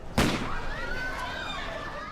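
A single sharp gunshot-like bang rings out close by, followed by a lingering ringing tail, as in attacks on vehicles along the country's highways.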